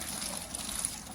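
Homegrown bean sprouts rinsed under running water on their third day of sprouting, a steady close trickle and splash of water with no voices.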